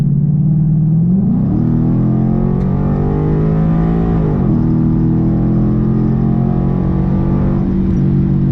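A Ford 5.0 V8 fitted with a Ford Performance Stage 3 kit pulls hard through the gears, its loud, close engine note rising in pitch, dropping at a shift, then climbing again in a sustained roar with no talk.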